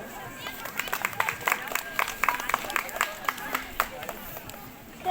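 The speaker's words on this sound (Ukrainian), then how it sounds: "Оплески." Scattered clapping from a small audience at a Sunday school choir performance, uneven and lively, with sharp individual claps over a faint murmur of voices.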